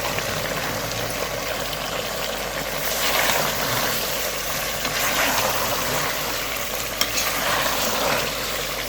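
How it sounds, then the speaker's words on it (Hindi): Beef for karahi fries in a pot with a steady, dense sizzle and crackle, close and continuous, with occasional stirring scrapes and no talking. "इसको हम अच्छे से पहले फ्राई करेंगे"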